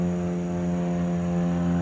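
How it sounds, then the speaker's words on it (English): A propeller airplane passes overhead with a steady, continuous drone and a humming low tone, loud and unbroken, with no talk over it. "Sorry about the plane."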